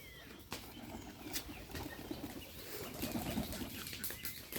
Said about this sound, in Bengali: ওই যে বোম্বাই কবুতর অনেক সুন্দর ডাকে